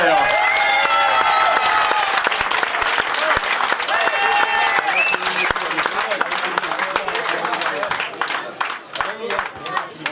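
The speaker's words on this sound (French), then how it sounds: "vos applaudissements pour Nico Verwer." A crowd applauds at a 2018 hill climb race prize ceremony in La Broque, with sustained dense clapping that thins out toward the end as an announcer speaks over a public address system.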